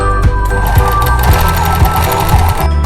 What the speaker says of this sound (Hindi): यहाँ हल्का हल्का मोड़ के इस किनारे किनारे पे यूँ जमाते हुए एक सिलाई लगा लेंगे